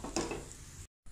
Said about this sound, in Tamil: தோசை ஊற்றியிருக்கேன், அதுக்கு மேலே எண்ணெய் ஊற்றி கொடுக்கணும்.